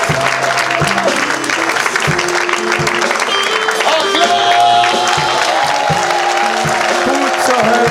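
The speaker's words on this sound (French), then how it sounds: "Put your hands together for the Lord." An audience claps steadily for the Lord at a French-language church service, dense sustained applause with a busy crowd wash throughout.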